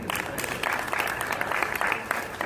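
Audience applause at a NAREDCO real estate development council event, a steady dense wash of many hands clapping at moderate distance, continuous throughout.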